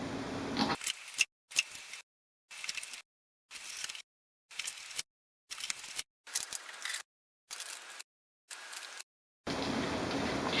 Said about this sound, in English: Let's remove the tapes from the printer.